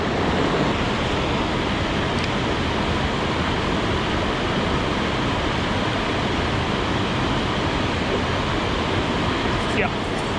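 Loud, continuous roar of fast-flowing river water, steady and unbroken throughout, close by and filling the whole scene.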